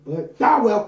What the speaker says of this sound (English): Hey, yo, stop fucking barking at everybody here.